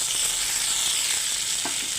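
Potatoes frying for a vegetarian aloo posto, with green chili and chopped tomato added, give a steady, loud, dense sizzle throughout, with a brief knock of something dropping into the pan near the end and no voices.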